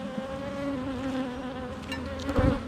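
Honey bees buzzing around an open hive during an inspection, a close, continuous droning hum with shifting pitch as bees fly near, swelling briefly louder toward the end.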